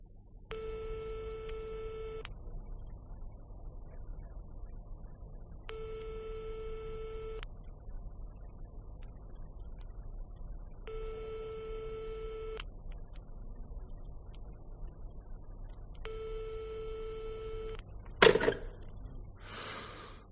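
Repeated telephone busy tone after a call to someone's home: four evenly spaced beeping bursts of roughly two seconds each with short gaps, steady and clear, then a brief sharp click or clatter at the end.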